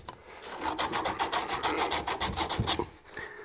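Emery cloth rubs back and forth on copper pipe, a rapid steady rasping scrape of many strokes, close and loud with no talking.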